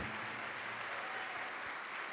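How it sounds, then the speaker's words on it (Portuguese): Church congregation applauding during a worship service, a continuous wash of clapping at moderate volume with faint sustained musical tones beneath, steady throughout. "vamos aplaudir ao Senhor Jesus por cada vida que está chegando"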